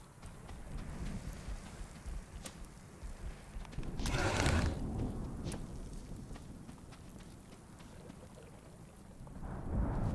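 Thunderstorm with steady heavy rain in the survival video game Smalland. Constant loud downpour with a rumbling thunder swell in the middle and a few sharp crackles, no voices.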